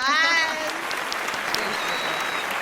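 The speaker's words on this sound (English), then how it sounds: "Everybody give her a round of applause." A small group in a podcast studio claps briefly for a guest, with a voice and high cheer at the start before the clapping continues thinly and close by.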